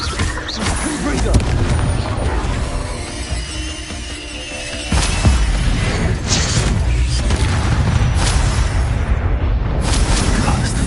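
A Confringo spell bursts into a loud fiery explosion in the video game Hogwarts Legacy, a sharp blast followed by a rumbling roar over dense game sound effects, with a brief voice present.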